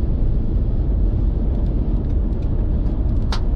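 Heavy trucks pass on an Australian highway near Toowoomba, a loud, steady roar and rumble of road traffic that fills the whole stretch, with a brief brighter whoosh near the end and no talking.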